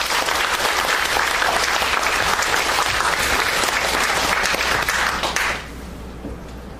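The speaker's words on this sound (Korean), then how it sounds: "여러분들의 큰 박수로 오늘 열겠습니다." An audience at the opening of a humanities city declaration ceremony in Jongno, Seoul claps in a dense, sustained burst of applause that fades out abruptly near the end.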